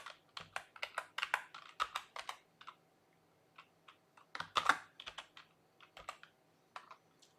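A C# script name is typed on a computer keyboard in quick, close clicking bursts, with a short pause mid-way before another rapid run of keystrokes.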